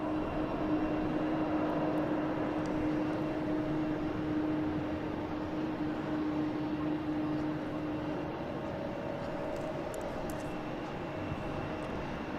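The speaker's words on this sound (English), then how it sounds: "British Airways is slowly heading out" A British Airways airliner taxiing out along a taxiway at Boston Logan International Airport, heard as a steady, moderately distant jet engine drone with a whining tone held for the whole stretch, no voices.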